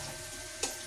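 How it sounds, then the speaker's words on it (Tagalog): Onions and garlic stir-fried in a pan for a tofu and water spinach sauté with oyster sauce give a steady close sizzle, with a brief brighter flare of hissing near the end. "Halo-haloin lang po natin yung ating sibuyas saka yung ating bawang"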